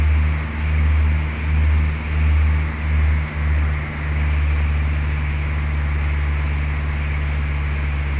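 A single-engine airplane in Flight Simulator 2004 drones steadily at reduced throttle near 2100 RPM, a constant low hum with a pulsing throb in the first half that settles into an even tone.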